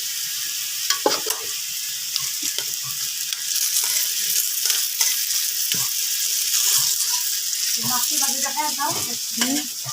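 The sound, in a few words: eggplant fritters frying in oil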